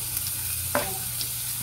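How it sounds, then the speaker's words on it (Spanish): Garlic dropped into a pan of hot olive oil, a steady soft sizzle with one brief clatter of stirring, close and alone with no voices. "Primero vamos a colocar el ajo."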